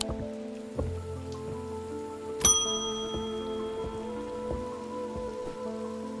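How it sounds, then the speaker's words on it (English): Steady rainfall in the video game Strange Antiquities, a soft continuous patter under sustained ambient game music, with a few sharper chime-like accents and no talking. "Rain again!"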